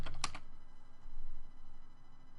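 A quick burst of computer keyboard typing, a few rapid clicks right at the start, is followed by a faint steady hum in an otherwise quiet room.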